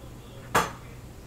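A knife cuts into a rack of smoked pork ribs, seasoned with salt, pepper, garlic and onion, on a board: one short close clatter of the blade against the wood, standing out against a quiet room.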